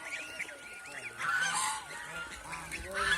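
Large domestic geese honk repeatedly at close range in a farm flock, their nasal calls rising and falling in overlapping bursts over a quiet background.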